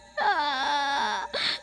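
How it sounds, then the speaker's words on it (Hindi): Woman's wailing cry as a horror-story sound effect in a witch-haunted house, a single sustained sobbing wail of about a second with wavering pitch, then a brief higher sob, close and clear with no talk. "बबलू को अचानक किसी औरत के रोने की आवाज आती है"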